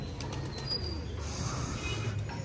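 Pigeons returning into a club's pigeon loft give faint wing flaps and soft cooing, quiet and close, with no voices.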